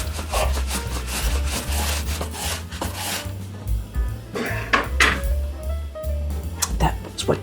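Apples are sliced 1/8 to 1/16 inch thin on a kitchen slicer for a French apple tart, a close rhythmic scraping and rasping of fruit pushed across the blade, over a low background hum.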